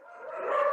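A dog gives a single short, whining bark or yip indoors that grows louder toward its end, heard alone without talk.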